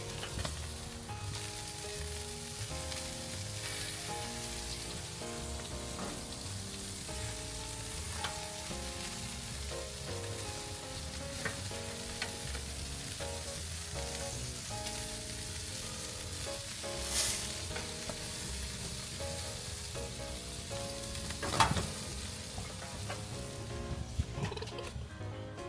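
BBQ chicken thighs, some brushed with homemade barbecue sauce, sizzle steadily on a grill, a continuous crackling hiss running beneath background music with a few louder pops.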